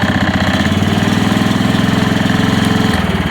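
A Chinese mini excavator's engine runs at minimum throttle, a loud, steady, low chugging idle with a rhythmic knock that holds close and continuous, shifting slightly near the end.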